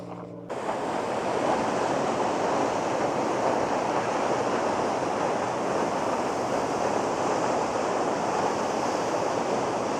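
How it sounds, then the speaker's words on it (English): A smaller waterfall on the way to Svartafoss in Iceland roars as steady, close, broadband rushing water, loud and unbroken throughout with some wind buffeting and no voices. "it's another smaller waterfall before you get to it"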